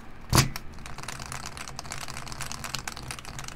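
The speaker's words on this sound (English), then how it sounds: "technically you could just like run the keyboard without a bottom" Rapid clacky typing on a Top Clack mechanical keyboard run without its bottom case, a sharp loud crack at the start followed by a steady patter of close, bright key strikes.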